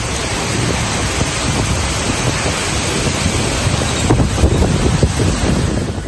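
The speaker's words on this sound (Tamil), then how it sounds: "சூறை காற்றுடன் பலத்த மழை" Heavy rain pours with strong gusting wind in Chennai's Perambur and Pulianthope areas, a dense, steady roar of rainfall and wind buffeting throughout, swelling louder near the end, with a low rumble that may be thunder.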